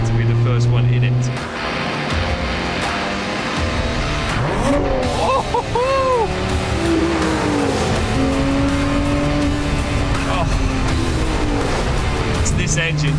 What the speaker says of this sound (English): This engine just roars.